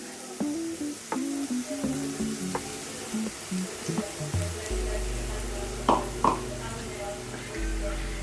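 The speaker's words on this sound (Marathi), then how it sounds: "आपलं तेल गरम झालेलं आहे. जरा जास्तच गरम झालेलं आहे." Very hot oil sizzling in a pan for street-style pav bhaji, a continuous crackling hiss beneath a voice, with a couple of brief clatters and a low hum rising toward the end.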